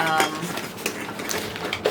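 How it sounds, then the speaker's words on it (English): Pieces of a lightweight metal camping cook set clink and rattle against each other as they are handled, with quick, close clatters over a couple of seconds. "This is a camping cook set."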